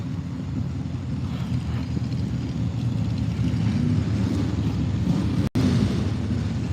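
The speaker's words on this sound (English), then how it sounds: "wind is blowing this direction" Wind blowing across a drag racing track, a steady low rumbling buffet on the microphone that holds throughout and briefly cuts out near the end.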